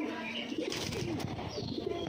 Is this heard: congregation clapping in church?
no